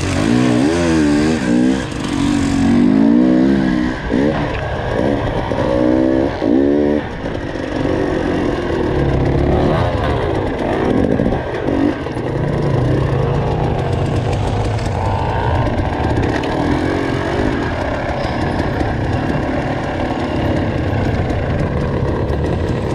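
Race vehicles roar past loudly at close range with rising and falling engine revs, then a continuous mix of engine drone and crowd chatter fills the rest of the clip.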